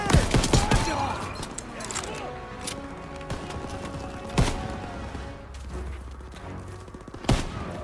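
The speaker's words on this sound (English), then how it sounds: "MGs are tearing us up!" Machine gun fire in a Call of Duty WWII battle crackles in fast irregular bursts among sharp reports, layered with combat noise.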